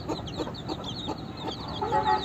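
Chicks from a cross between silkie and local desi hens give a string of soft, high peeping clucks close by, several overlapping calls in quick succession.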